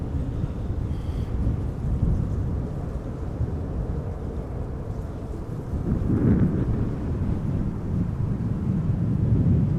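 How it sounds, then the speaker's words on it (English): Wind picking up outdoors at Amsterdam Schiphol Airport, a continuous low rushing buffet across the microphone that strengthens with gusts toward the end. "The wind seems to have started to pick up a little bit"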